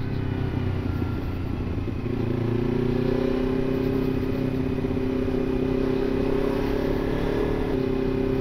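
A motorcycle rides along a road with a constant loud engine drone and rising whine as it gains speed, heard up close with wind rush over the whole stretch and no talking.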